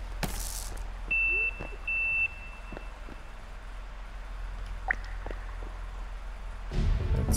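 Electronic beeping in the survival video game Sons of the Forest: two short steady tones about a second apart, faint under scattered soft game clicks and thuds.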